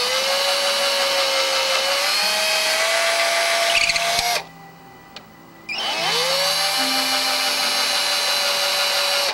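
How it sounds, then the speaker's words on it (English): A power drill bores holes in an ARF model airplane, a loud steady whine that briefly cuts out for about a second before spinning back up, with no talking over it. "Now it's always good if you can use an undersized drill."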